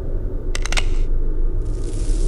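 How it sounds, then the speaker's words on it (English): A quick metallic rack of a gun being cocked in the game The Lost Crown, a few sharp clicks close together over a low ambient game hum. "That was the sound of a gun cocking."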